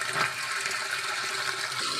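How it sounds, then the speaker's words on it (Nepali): Water rushes steadily into a homemade organic water filter, a close, continuous gushing and filling sound with no pauses and no voices. "अब जति पानी तल चलायो अनि यसरी पानी आउने गर्छ"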